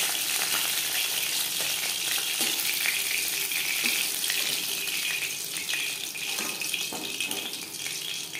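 Marinated fish fries in hot oil, a continuous close sizzle with small crackles and spits running evenly throughout, with no voices.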